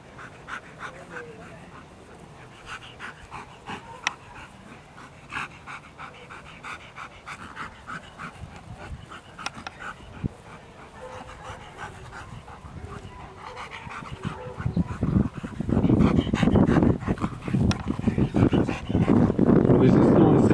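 A dog pants heavily and whimpers during a protection-dog trial exercise as a helper makes threats, with sharp yips and barks growing louder toward the end, while people speak nearby.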